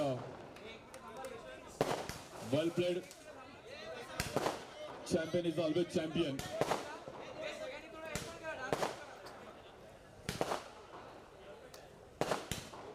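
Firecrackers burst in sharp repeated cracks at an outdoor cricket prize ceremony, scattered through cheering and an announcer's voice speaking over them.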